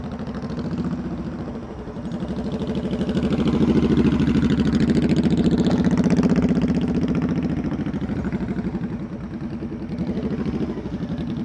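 A motorcycle engine runs steadily at low speed during slow-speed riding practice around cones, a close, continuous mid-low drone that swells in the middle and eases off again, heard on its own.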